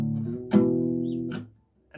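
Guitar playing the main riff of a song: a few short sustained picked notes with sharp attacks, then a brief pause, solo and fairly close.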